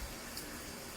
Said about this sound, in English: Let me turn the cold water all the way off